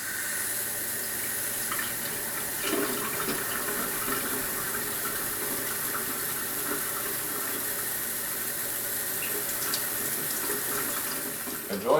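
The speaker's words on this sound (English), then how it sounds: "I will turn the water on and we'll see what happens." Water runs from a tap in a steady, continuous gush with a faint hiss, moderately loud and unbroken for the whole stretch, alone without any voices.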